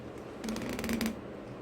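Paper is cut with a brief burst of crisp snipping and rustling, as a background is removed from a kirigami design; the sound is close and soft, with no voices.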